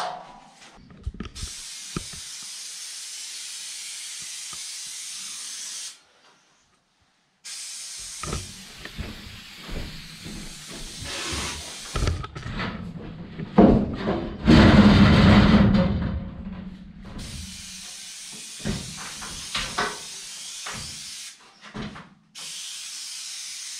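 Spray foam insulation hisses in bursts inside a shipping container, with several separate sprays, one louder and longer near the middle, broken by short silences and handling noises.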